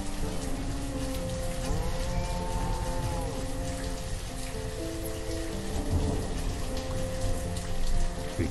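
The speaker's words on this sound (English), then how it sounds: "Because it seems to rain a lot in Banished." Rain falling in the city-building game Banished, a steady dense hiss with low rumbles like distant thunder, layered under gentle sustained musical tones, even and continuous.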